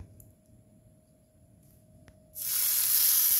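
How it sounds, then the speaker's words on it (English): Shawarma kebab meat hits blended sunflower oil in a non-stick frying pan, a loud sudden sizzle erupting after a quiet lead-in and holding as a steady bright hiss to the end. "on a non-stick frying pan, using this blended oil with some bits of sunflower. So let's now try to fry."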